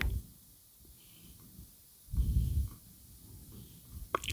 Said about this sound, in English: She's purring right next to me, can you hear that?